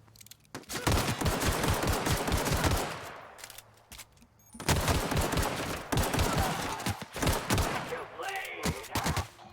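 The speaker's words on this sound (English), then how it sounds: "Getting shot at." Repeated bursts of automatic gunfire in the sci-fi game The Outer Worlds, two long loud volleys separated by a short pause, then scattered shots and effects.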